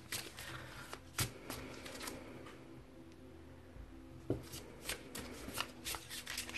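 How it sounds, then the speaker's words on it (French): Oracle cards being shuffled by hand during a live reading, a soft run of papery riffles and flicks with a few sharper snaps, close and fairly quiet, with no talking. "Je continue de mélanger en ayant quand même ta personne et ta question en tête."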